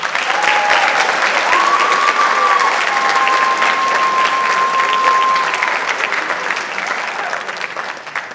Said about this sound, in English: Can we have a round of applause for Cooper Davis?